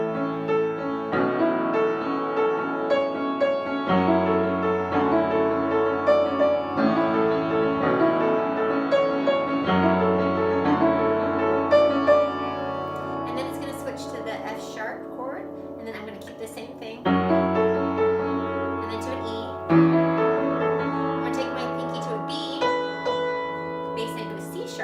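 Piano playing the chorus chords of a worship song, with full sustained chords changing every few seconds over a steady bass, loud and close, played alone without talking.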